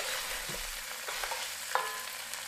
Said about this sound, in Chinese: 稍微炒一下， 锅底儿有一点焦焦的东西，这个会融到汤里变成汤的味道